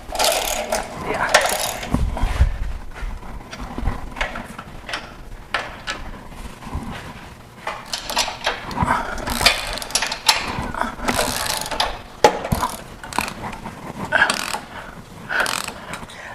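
A ratchet and impact wrench work on bolts while a bumper comes off a Jeep build, giving repeated clicking ratchet runs and short mechanical bursts in a garage, with people talking intermittently.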